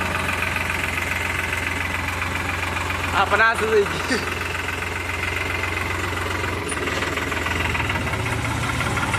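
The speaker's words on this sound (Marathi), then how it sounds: "ट्रॅक्टर किती मोकळा चालतो" A loaded tractor engine rumbles steadily and close by throughout, with someone talking over the constant low drone.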